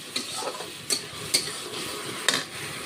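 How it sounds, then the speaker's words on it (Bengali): Spice masala with Kashmiri chilli powder and a little water cooking in a pan for a fish curry, a soft steady sizzle broken by a few sharp stirring scrapes and clinks, close and fairly quiet. "অল্প জল দিয়ে দিলাম দিয়ে এখন মশলাটা কষিয়ে নেব"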